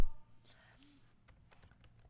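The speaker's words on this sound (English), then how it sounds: "I'll type it at the top." Typing on a computer keyboard while working in Excel, a quick scatter of light key clicks that follows a brief louder thump, faint and near in an otherwise quiet room.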